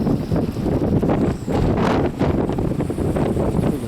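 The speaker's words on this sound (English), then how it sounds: "We can stand up in the high wind here." High wind gusting over water during a windy Leap Year's Day carp fishing outing, continuous loud rumbling buffets on the microphone with brief lulls, no voices.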